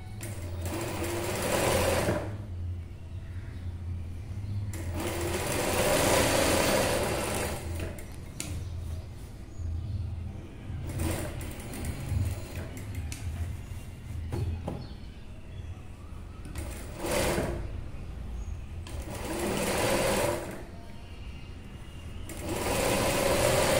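A sewing machine stitches semi-patiala pants in a tailoring class, running in several loud, rapid bursts separated by short quiet pauses.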